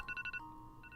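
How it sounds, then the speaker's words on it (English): Short chiming notification tone from an email alert on a computer, a quick run of four bright electronic beeps followed by two softer ones near the end, moderately loud with no talk. "Actually, I think that's my email sound."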